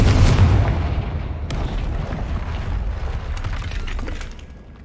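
A Confringo spell in Hogwarts Legacy blasts through a barrier with a heavy, booming explosion that starts loud and then rolls into a long rumbling, crackling decay with scattered debris bursts.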